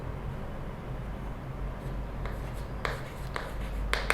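Pen or chalk scratching out a written definition of a quadrilateral in a maths lesson, faint steady scraping under room hum with a few brief sharper strokes near the end.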